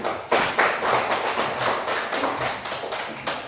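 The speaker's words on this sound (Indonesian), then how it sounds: "Untuk kelompok 2 kita tepuk tangan dulu untuk mereka" A classroom group of students applauds together after a presentation, a brisk burst of close, steady hand claps lasting a few seconds with no talking over it.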